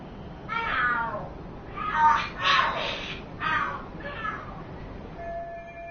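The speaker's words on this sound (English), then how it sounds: "Are there cats fighting?" Cats in the video game Lost Judgment yowling and screeching in a fight, a run of several loud, strained wails rising and falling over a few seconds, fairly close against a low background hum.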